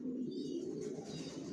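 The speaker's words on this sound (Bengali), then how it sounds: "এখনও চিচি করে বাবা মায়ের সাথে রাখা বাচ্চাগুলো" Racer pigeon chicks kept with their parents make a continuous low cooing, churring sound at close range, with faint higher chirps above it and no talking.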